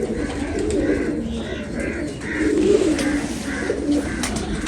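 A domestic pigeon, brother of a black-barred bird, coos in repeated throaty bursts at a steady rhythm, moderately loud against a noisy background.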